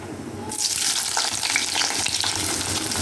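Cinnamon and cloves fry in hot oil in a pan for a mushroom dish, a sudden burst of loud, steady crackling sizzle after a quiet start, close and without voices.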